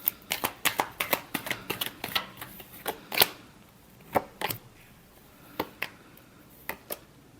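Tarot cards shuffled in quick riffling bursts, a dense run of crisp flicks followed by a few sparser slaps and taps, close and fairly quiet with no talking.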